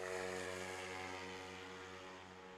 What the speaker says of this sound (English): when Brian gives that plane the throttle, I tell you what, it's such a bark back here.